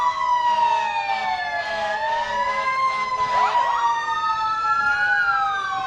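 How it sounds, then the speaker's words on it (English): Wailing emergency vehicle sirens at a Wakefield Fourth of July parade, several overlapping rising and falling tones from Wakefield motorcycle units and a fire department truck, loud and continuous and close by. "You can hear the sirens."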